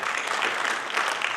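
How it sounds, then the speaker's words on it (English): A conference audience applauds at an inaugural session, a dense, steady wash of clapping across a hall, fairly loud and with no voices over it. "Can we have a loud round of applause?"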